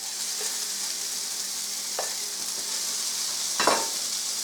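Onions sizzling in a pan of hot olive oil, a steady close crackling hiss throughout with a few light clinks of stirring.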